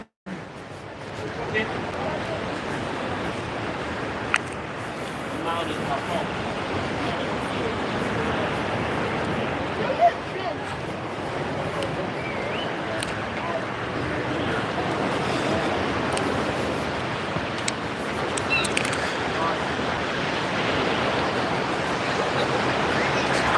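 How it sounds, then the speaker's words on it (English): Continuous roar of sea surf at Southwold with wind buffeting the microphone, a broad steady wash with occasional brief knocks, no clear voices. "You just got the sounds of the seagulls, the big skies, and the sound of the sea."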